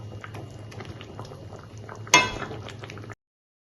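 Fish curry with four green chillies and coriander leaves bubbles at a steady boil in a pan, with one sharp metallic clink partway through and the bubbling continuing before stopping abruptly.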